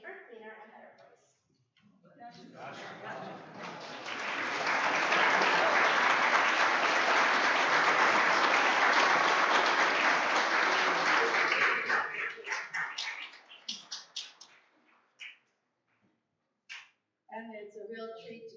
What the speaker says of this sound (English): it's a real treat to be able to pause for your applause